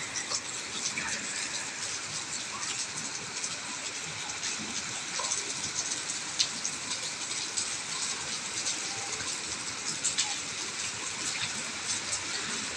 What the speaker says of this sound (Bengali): বৃষ্টি কিন্তু খুব জোরে হচ্ছে না, টিপ টিপ বৃষ্টি হচ্ছে, কিন্তু সারা দিন বৃষ্টি হচ্ছে।